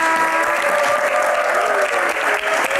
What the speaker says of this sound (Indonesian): Tepuk tangan buat Mas Arman.